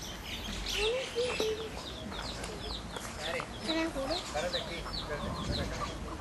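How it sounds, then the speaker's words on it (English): Roosters crow and smaller birds chirp and call outdoors in Hawaii, a steady, layered chorus of repeated calls at moderate distance with light background noise. "You got the roosters and the birds and everything around here."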